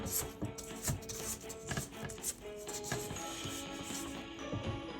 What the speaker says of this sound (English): Now we are going to scrape the bottom, ensuring that everything is mixing in properly.